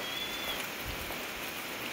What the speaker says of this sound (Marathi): अजून पण चालूच आहे रिमझिम.